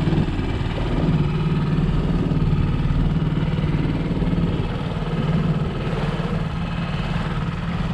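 A dinghy's outboard motor runs steadily at a low, even throttle while the small boat noses in toward moored boats, a continuous close engine drone with no talk over it.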